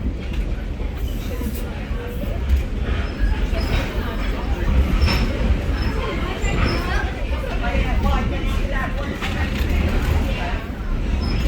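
A Lehigh Valley Railroad passenger train climbing uphill near Jim Thorpe makes a constant heavy rumble and rattle heard from inside a car, with murmuring passenger voices mixed in throughout.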